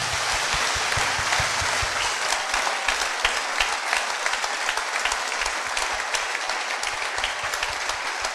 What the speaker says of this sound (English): Wherever you are, can you clap for God's miracle?